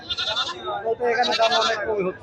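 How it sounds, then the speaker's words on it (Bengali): Local goats bleat at a busy livestock market, with two drawn-out, nasal bleats close by over a steady murmur of crowd noise and voices. "দেখেন বিশাল বড় বড় আকৃতির ছাগল"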